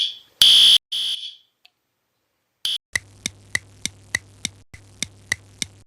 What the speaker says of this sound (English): Here's my chance to pull the fire alarm.